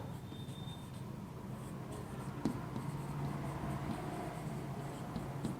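Chalk or pen scratching steadily across a board during a Class 12 physics lecture on electric dipoles, a faint continuous writing sound with one sharp tap near the middle, no voice over it.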